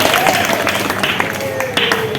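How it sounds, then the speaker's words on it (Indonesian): People in a classroom or meeting room clap for Wildan at the close of a presentation, a short burst of scattered applause with voices talking over it. "tepuk tangan dulu buat Wildan sebelum kita selesai"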